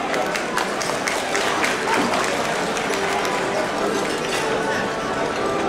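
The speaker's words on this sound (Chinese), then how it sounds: "来，我们再掌声鼓励一次好不好？" An audience applauds at a physicians' day celebration held by a Kaohsiung county medical association, a dense steady clapping from a room full of people lasting throughout.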